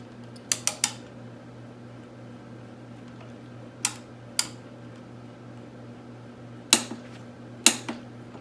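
A torque wrench tightening A-arm and ball joint bolts on a Honda 400ex ATV to 29 foot-pounds gives off sharp metallic clicks in small clusters, spaced apart over a quiet background hum.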